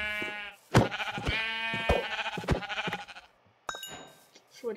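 Several Minecraft sheep bleats in a row, loud and close, with harmonic wavering cries, a short pause, then more bleating and clattery game sounds.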